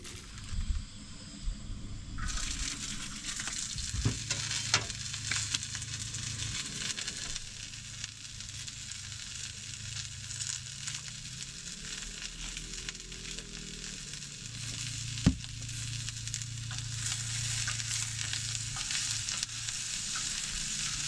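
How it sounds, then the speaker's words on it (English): Ribeye steak and Brussels sprouts sizzle in olive oil, a steady crackling fry that continues throughout, with occasional stirring clatter and one sharp tap partway through. "I like to let the Brussels sprouts cook down, soften up, soak up the olive oil and seasoning"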